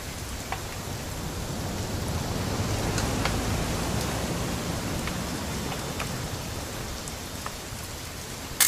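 Rain falls steadily in What Remains of Edith Finch, an even hiss of drops on surfaces with a few faint ticks and a brief knock at the very end.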